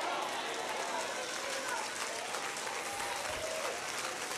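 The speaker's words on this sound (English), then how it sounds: "I just want you to clap." Church congregation clapping in a worship service, a dense, steady wash of many hands filling the room, with voices faintly mixed in.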